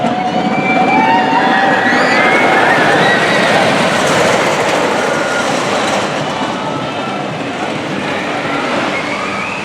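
A train rumbles past nearby, a loud steady roar with wheel noise and faint high squeals, continuous throughout with no talking.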